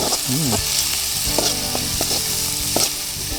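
Food sizzles and fries steadily in a pan as turmeric and salt are stirred in, with the stirring heard as scraping strokes over the constant loud crackle.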